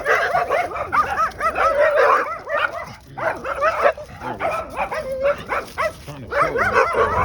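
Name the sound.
small dog barking in a garden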